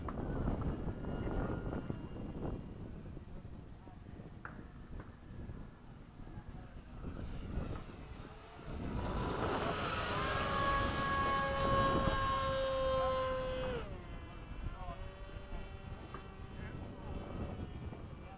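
An E-flite F-16 radio-controlled electric ducted-fan jet with a rebalanced fan flies circuits around a runway, its whine rising to a steady high-pitched tone as it passes close, then fading, with people talking nearby.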